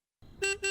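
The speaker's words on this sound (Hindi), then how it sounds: "देखो कोई बाहर हॉर्न बजा रहा है।" Two short car horn honks sound from outside in a house, the first rising out of faint background noise, the second following quickly after.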